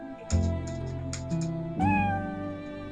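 A cat in a pirate RPG video game meows as it is petted: a short meow, another, then a longer rising meow, each clear and close over low game ambience and music.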